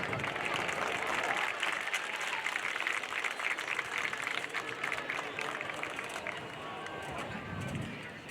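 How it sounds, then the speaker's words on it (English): A football stadium crowd applauds and cheers for a dance team, a broad, steady wash of clapping and voices that slowly fades toward the end. "Another round of applause for the Emeralds dance team."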